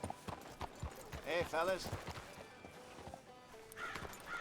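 In Red Dead Redemption 2, horse hooves clip-clop on a town street while a horse whinnies in a rising, wavering cry, with someone speaking briefly over it.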